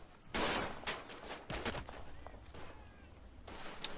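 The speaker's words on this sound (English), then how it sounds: "Both of those shots hit." Rifle and machine-gun shots in a World War I battle in the game Verdun, faint and scattered, with a few sharp cracks over distant rumbling fire.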